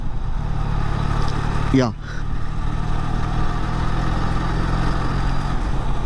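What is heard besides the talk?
QJ SRK400 motorcycle engine at low speed in gear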